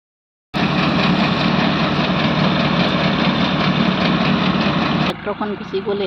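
A tractor engine runs for paddy threshing in a rice field, a loud, close, steady diesel drone that suddenly drops away near the end, leaving quieter rumbling.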